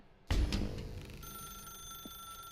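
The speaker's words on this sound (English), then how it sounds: "Now pick up the phone." A telephone in the game The Stanley Parable starts ringing abruptly, a bright metallic bell burst followed by a sustained ringing tone that lingers, close and fairly loud.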